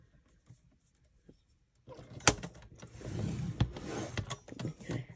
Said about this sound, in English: I am going to score this along its length at 1/2 inch on either side.